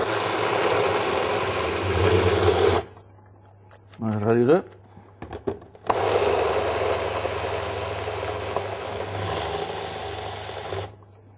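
A food processor whirs loudly as it blends hummus with sour cream, running steadily for about three seconds, stopping while a person speaks briefly, then restarting and running continuously until the end.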